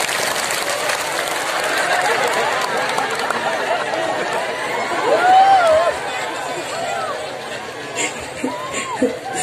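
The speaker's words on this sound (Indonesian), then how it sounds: "Tepuk tangan dulu dong buat suami sampean." Audience applause for the husbands at an Indonesian talk, a steady wash of clapping mixed with chatter and a murmuring crowd, with voices rising over it midway.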